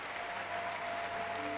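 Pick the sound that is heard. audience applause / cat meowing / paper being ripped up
audience applause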